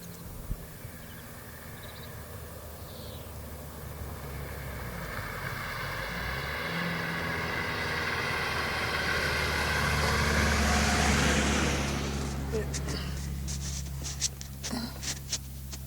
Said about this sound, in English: It's a truck, yep.